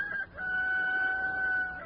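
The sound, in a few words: chickens clucking and a rooster crowing in a radio drama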